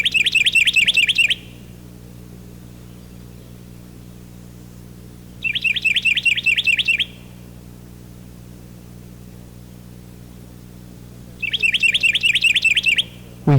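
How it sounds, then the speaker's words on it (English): A Carolina wren sings three bright, rapid rolling phrases, each about a second long, separated by pauses, clear and fairly close over a low, steady background hum. "the Carolina wren has more than one song, and we are not at all surprised when this individual switches to a different song type"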